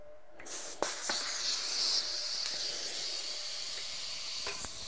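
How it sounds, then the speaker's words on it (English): Air rushing out of an open valve on a BMX tire, a loud continuous hiss that starts abruptly and holds steady close to the microphone, with a few small clicks. "This valve is open, and when you take it off the tire, the air is just coming out right here."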